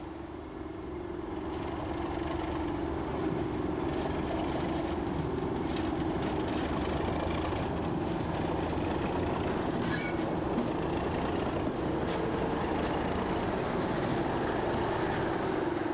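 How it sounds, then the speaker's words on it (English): A British Rail Class 37 diesel locomotive arrives, rumbling steadily with a deep, constant engine growl, train noise filling the whole stretch without pause. "The second train arrives, with the 37's characteristic growl."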